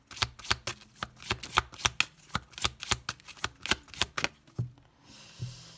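Tarot cards being shuffled and drawn in a quick, even run of crisp riffling snaps, close and clear. The shuffling stops near the end, followed by a couple of softer taps as cards are set down.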